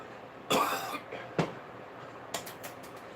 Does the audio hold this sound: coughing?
yes